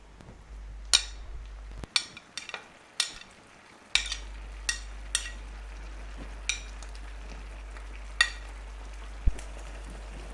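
Chicken pieces drop into a simmering sweet and sour sauce with carrots and peppers, making a string of sharp, separate clinks and plops spaced about a second apart over a low, constant hum.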